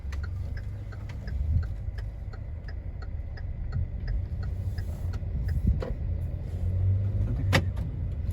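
A hand-operated modified car's turn indicator ticks in a steady, evenly spaced rhythm over the low rumble of the running engine and cabin, with a couple of louder clicks near the end.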